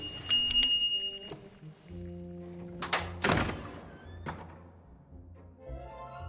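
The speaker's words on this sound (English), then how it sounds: "The nice thing about the bell, Bill can't ignore me" A bell rung in The Book of Unwritten Tales 2, a few sharp clangs with metallic ringing tails standing alone amid soft thunks and clicks, moderately loud and close.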